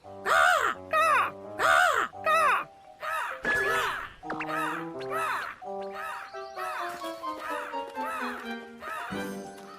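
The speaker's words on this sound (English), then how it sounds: "Mr. and Mrs. Crow were loud. They yelled a lot." Crows caw loudly over and over in quick, harsh bursts that run together toward the end, with no speech alongside.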